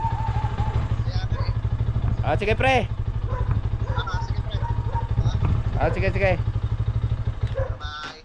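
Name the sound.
motorcycle engine running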